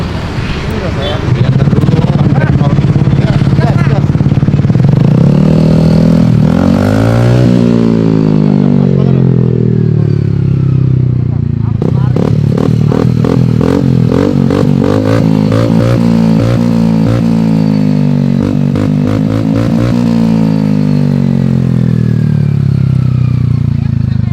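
A motorcycle with a loud, throaty aftermarket exhaust revs repeatedly at a police traffic stop, engine rising and falling in sharp bursts, close by, with people talking over it.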